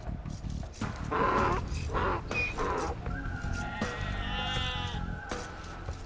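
Sheep in Age of Empires 2 Definitive Edition bleat in a run of wavering, nasal calls that overlap and trail off, set against a busy game soundscape.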